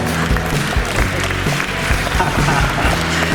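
Audience at an outdoor Miss Blumare Veneto beauty pageant applauding spontaneously, continuous dense clapping mixed with crowd noise and low rumble throughout.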